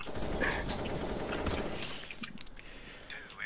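Rapid bursts of gunfire in a Danger Zone battle-royale match, steady and fairly loud for the whole stretch with crackling shots layered over a constant din, no talk.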